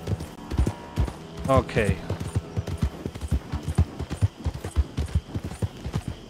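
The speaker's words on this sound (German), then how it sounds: "Wir reiten zurück." Horse hooves clip-clop at a steady trot during a ride in the video game Red Dead Redemption 2, with a horse neighing briefly near the start and a voice speaking once over the rhythmic hoofbeats.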